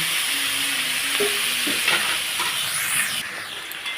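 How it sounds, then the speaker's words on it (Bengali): Vegetables fry in a pan with a steady, close sizzling hiss and a few stirring scrapes. "খুব সুন্দর করে ভেজে মানে ভাজা ভাজা করে নিচ্ছি"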